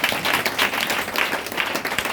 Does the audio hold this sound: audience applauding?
yes